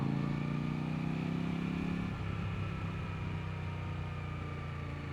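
A 2025 Kove 800X Rally adventure motorcycle engine hums steadily at a low, even idle or cruise with a faint shift in tone partway through, quiet and continuous with no talking.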